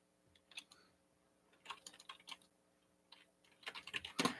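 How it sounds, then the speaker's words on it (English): Soft, sporadic clicking of computer keyboard keys in short bursts, quiet and close, with a faint steady hum behind it. "I'm typing to a friend just to get them in on the stream"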